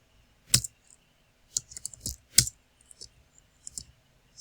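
Scattered keyboard clicks in short irregular bursts, a few sharp keystrokes at a time with gaps between, close and fairly quiet, typing a title into a form field while coding an ASP.NET Core Razor Pages app.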